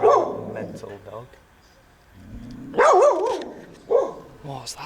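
A dog barks in a street in Sombor, Serbia, with a few sharp yapping barks near the start and a louder, wavering bark-whine in the middle, under spoken voices.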